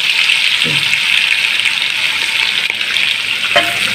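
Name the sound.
peanuts frying in hot oil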